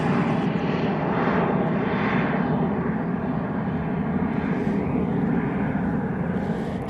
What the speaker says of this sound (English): It's the Yun Yao using the 787-9 Dreamliner